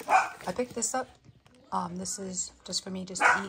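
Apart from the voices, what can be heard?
dog barking at a new dog in the house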